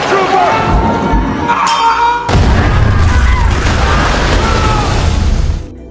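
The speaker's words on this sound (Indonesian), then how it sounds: "Akibat ledakan itu, sebagian besar pasukan James harus gugur" A bomb trap detonates in a war film set in a tunnel in Syria, a heavy booming blast that cuts in suddenly and roars on loudly with a rumbling, crashing tail before it fades.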